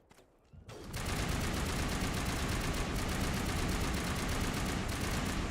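Sustained rapid gunfire from a firefight in the video game Mass Effect 1, bursting in abruptly after a quiet moment and continuing as a loud, dense, unbroken volley.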